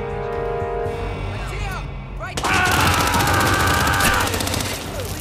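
Rapid gunfire from the video game Hitman 3 VR erupts loud and dense midway, filling the rest of the stretch with sustained shooting over game noise, with a voice talking underneath.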